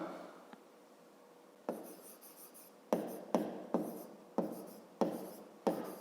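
Pen or chalk writing by hand during a fifth-grade maths lesson, heard as a faint continuous scratch followed by a run of six sharp, evenly spaced strokes, each a crisp tap trailing into a short scrape, with no talking.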